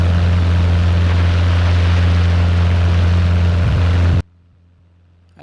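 A light propeller airplane on the runway after landing at Utapao drones with a loud, steady engine hum and low propeller tones, then cuts off sharply into near silence.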